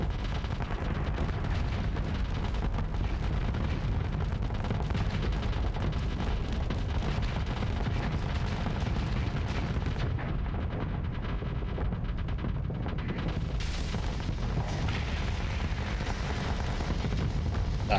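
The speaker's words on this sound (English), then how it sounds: "Just sitting there shooting them to death slowly." Starsector ship weapons fire at enemy ships in a dense, continuous barrage of booming shots and explosions that rumble loudly and steadily, with a brief thinning of the noise midway.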